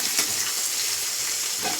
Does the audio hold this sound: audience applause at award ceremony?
no